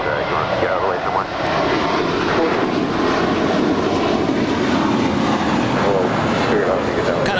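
Jet airliner at LAX, a loud continuous engine roar holding steady throughout, with a voice talking over it now and then.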